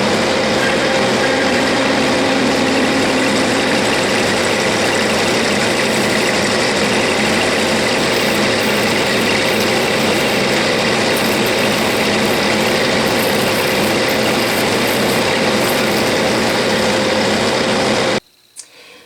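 A metal lathe cuts off a workpiece, producing a steady, loud motor drone with a constant cutting whine and no pauses; it stops abruptly near the end, followed by a brief clunk.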